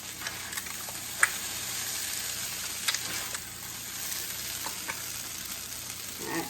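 Eggs fry in a skillet with a steady, close sizzle and occasional pops and light crackles, alone with no voices.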